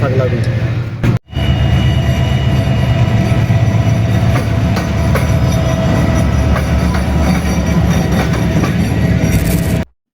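A train travelling between Sylhet and Dhaka rumbles steadily on its rails, a loud continuous low roar with rhythmic wheel clatter, briefly cut off near the start and running close and unbroken until the end.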